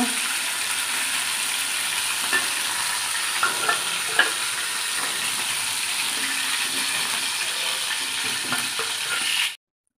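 Steady hissing sizzle of bay leaves, dried red chillies and whole cumin tempering in hot oil, with a few light pops and crackles, close by before cutting off abruptly.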